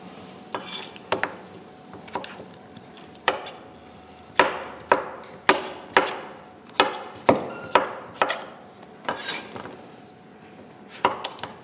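Vegetables for a winter soup are sliced at an angle with a knife on a board, a series of sharp close knocks in an uneven rhythm, sometimes in quick pairs, with no talking.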